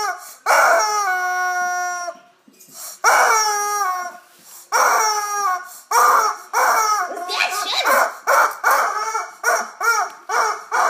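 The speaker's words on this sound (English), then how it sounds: "my dog's obsessed with rubber chickens" A rubber chicken toy squeaks in long wailing honks, loud and close, followed by a run of quick short squeaks as a dog plays with it indoors.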